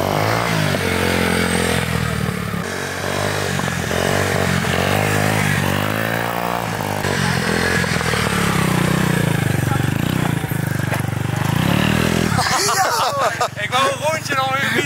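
A scooter engine revs hard during a wheelie ride, its pitch rising and falling over a loud, rough rumble, while voices talk over it.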